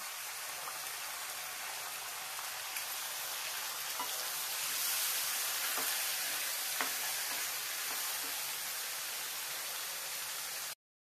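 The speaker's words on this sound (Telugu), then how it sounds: "దీంట్లో దోసకాయ ముక్కలు వేసుకోవాలి." Cucumber pieces frying in a pan for cucumber curry, a steady close hiss of sizzling oil with occasional soft clicks of stirring, fairly even throughout.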